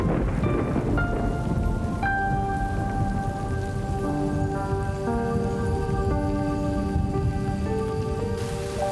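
Heavy rain pours steadily with thunder rumbling through it, a dense continuous downpour beneath soft sustained musical tones.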